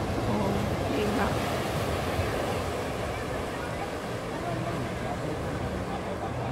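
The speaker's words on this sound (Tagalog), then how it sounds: "lalaki ng alon." Big ocean waves at Shek O Beach, Hong Kong, make a steady, loud roar of surf mixed with wind buffeting the microphone, continuous throughout with no distinct breaks.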